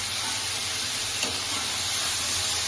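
Ridge gourd with poppy seed frying in a pan, a constant close hissing sizzle with a brief stirring scrape near the middle.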